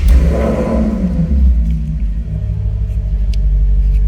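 A Maserati GranTurismo/GranCabrio engine rumbles steadily at close range after starting, a deep continuous drone with no clear revving, loud and steady throughout.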